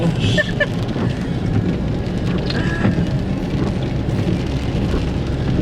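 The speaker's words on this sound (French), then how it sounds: "Et la pluie fait chiant." Steady rain hisses continuously over a broad background rumble, with a few faint clinks and distant noises mixed in.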